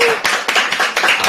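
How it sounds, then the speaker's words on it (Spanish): A studio audience applauds a guest on a Spanish talk show with loud, close, rhythmic clapping. The claps come as sharp, evenly spaced bursts over a brief moment. "¡Aplausos!"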